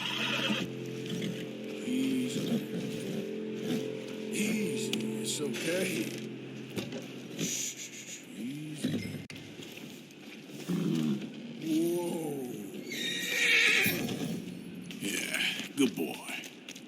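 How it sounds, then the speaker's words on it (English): Horse neighing and whinnying in the Red Dead Redemption 2 western game, several drawn-out calls over background hoof and tack sounds, with some brief voices. "That looks like a decent horse."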